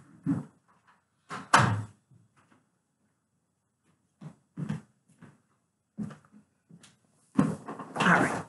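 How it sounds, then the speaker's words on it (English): A door being closed indoors: a few soft knocks and rattles, then a sharper thud and a louder, longer clatter at the end. All of it sounds close and fairly quiet, with no talking over it. "I gotta go close the door."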